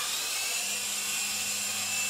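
An MJX T641C twin-rotor radio-controlled helicopter flies nearby, giving a continuous high-pitched motor whine and rotor buzz that holds steady and loud throughout, with no talking.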